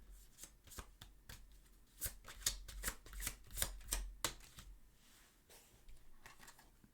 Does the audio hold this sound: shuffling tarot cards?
yes